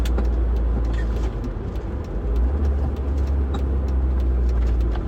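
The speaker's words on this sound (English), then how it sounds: "I just rev matched down to third and then started braking" A car engine in a racing video game rev-matches on a downshift to third gear, a steady, loud, low engine drone that shifts in pitch midway and carries on without a break.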